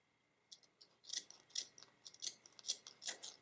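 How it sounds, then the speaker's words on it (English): Scissors cutting out small red paper hearts for a Valentine wreath: a quick run of crisp, close snips, faint and steady, with no talking. "And I'm going to just cut out my hearts"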